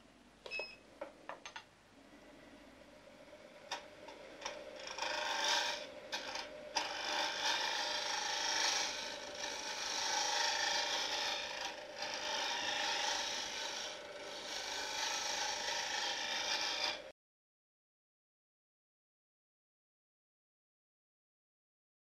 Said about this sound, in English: So to do that, I will take a shear cut.